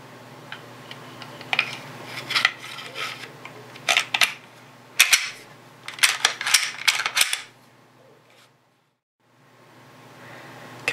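Metal and polymer parts of a Glock pistol clack and click together during reassembly, a series of sharp, close snaps in irregular bursts, followed by a short quiet stretch.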